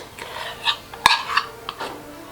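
Peanut butter cookie dough made with white sugar, egg and vanilla is mixed, giving a short run of close clinks, taps and scraping stirs.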